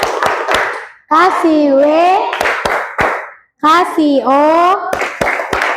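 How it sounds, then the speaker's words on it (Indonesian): A group of children claps a "tepuk wow" chant together in a classroom, sharp unison clap bursts alternating with loud chanted voices in a quick rhythmic pattern. "beri tepuk wow dulu untuk kelompok 3. Tepuk wow."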